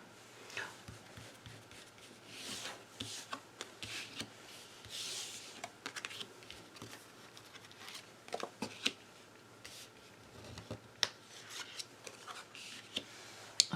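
Playing cards being shuffled and handled at close range, with repeated soft riffling bursts, flicks and snaps of card stock scattered through quiet pauses, and no voices over them.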